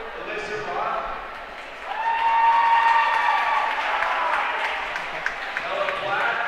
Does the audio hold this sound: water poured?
no